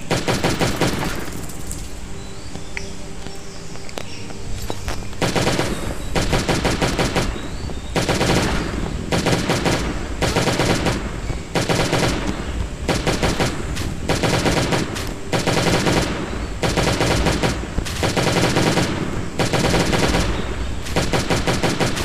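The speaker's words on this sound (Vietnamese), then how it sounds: "Cái khẩu súng này bắn hụt nhiều quá các bạn ạ." Gunfire from a weapon in the survival game Last Day on Earth rattles in long, loud automatic bursts, dense rapid shots repeating with short gaps between volleys.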